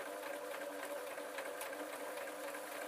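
A sewing machine stitches leatherette with a steady, continuous mechanical whir and rapid needle clatter, close and even throughout, without talking.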